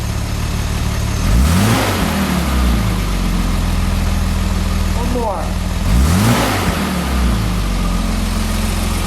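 A 1969 Mercedes-Benz 280 SL engine idles, then revs sharply twice, each rise and fall of the engine clearly heard close up, with brief speech in between.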